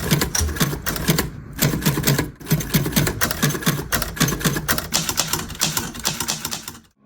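Typewriter keys strike in a fast, steady clatter of sharp mechanical taps, with brief pauses, the typing done to build up artwork from letters and symbols. Loud and close, with no voices.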